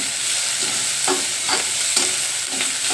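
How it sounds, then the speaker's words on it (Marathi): Finely chopped onion and garlic sauté in a pan for a fenugreek (methi) vegetable dish, with a constant loud sizzle and several scraping stirs of a spoon close by. "लसूण आणि 2 कांदे घेतले ते बारीक चिरलेले. चांगले परतून घ्यायचे ते."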